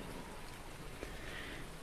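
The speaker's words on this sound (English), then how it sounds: "it's raining" Rain in the Farming Simulator 19 video game, Seasons mod on PS4, falls as a quiet, even wash of patter with no voices over it.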